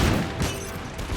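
Rapid cluster of musket shots from a citizen militia firing in an American Revolution battle game, several overlapping booming reports packed into about a second, fairly close and loud.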